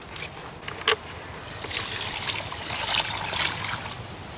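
Water pours and trickles steadily nearby, a continuous splashing stream with a brief clink near the start.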